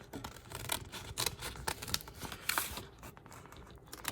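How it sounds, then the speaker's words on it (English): Quiet, close snipping and crinkling as scissors cut through paper in a run of short, irregular cuts. "what I will do is simply use my scissors"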